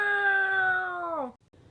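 Drawn-out meow for the cartoon snail Gary from SpongeBob, probably voiced by a person imitating a cat: one loud, sustained, tonal cry that slides down in pitch at the end, followed by faint noise.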